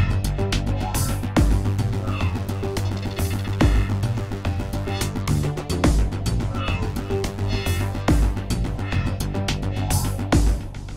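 A Blue II synthesizer preset with a Punch layer added through Prisma plays a steady looping pattern with a heavy pulsing bass, bright layered tones and sharp percussive hits recurring about every two seconds, loud and alone.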